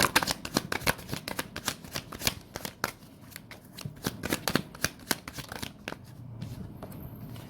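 Tarot cards are shuffled by hand in quick, rapid riffling bursts, close and crisp, with a steady flicking rhythm that thins out toward the end.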